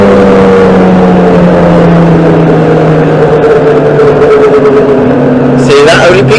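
Toyota Corolla sleeper with a 3S-GTE turbo engine on methanol accelerating, loud and close, engine tone climbing through the gears, with a burst of fluttering chatter near the end.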